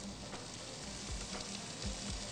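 Hunter beef sizzles steadily in a pan with ginger and mushrooms, a dense, continuous frying hiss with a few soft stirring scrapes, close and alone with no voices.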